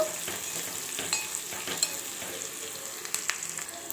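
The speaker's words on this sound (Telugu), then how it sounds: "ఇప్పుడు చక్కగా ఒకసారి అయితే కలిపేసుకుందాము" A chaat mixture with turmeric and salt is stirred in a hot pan; a continuous sizzle runs underneath while scattered scraping and tapping of the spoon pop out irregularly, close and fairly loud.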